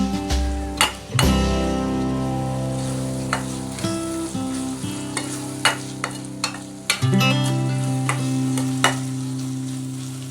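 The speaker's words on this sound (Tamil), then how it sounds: "அந்த இஞ்சி பூண்டுடைய பச்சை வாடை போகிற வரைக்கும் நல்லா எண்ணெயில் வதக்கிடுவோம்" Ginger and garlic sautéing in oil in a pan for pepper chicken: a steady sizzle with a low sustained hum runs throughout, broken by sharp clinks of a utensil striking the pan every second or so, close and loud, with no talking.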